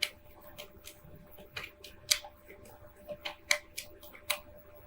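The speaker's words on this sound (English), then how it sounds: "let me shuffle here with these, call them my clarifying cards" Tarot cards are shuffled close by in a quiet room, giving a series of crisp, short riffling snaps and soft slaps at an irregular rhythm.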